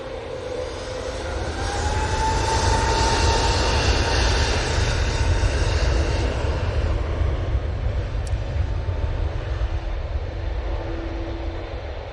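An Airbus A321 airliner climbs out of Manchester Airport bound for Amsterdam, its engines a loud, sustained roar with a deep rumble and a faint whining tone drifting through, steady throughout.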